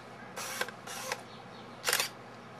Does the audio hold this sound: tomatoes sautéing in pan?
no